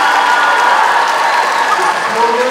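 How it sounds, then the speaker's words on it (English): An audience at the Gibbons Got Talent 2022 talent show applauds the event organizers with steady, dense clapping throughout, while someone talks over it. "please, a round of applause for the folks who have"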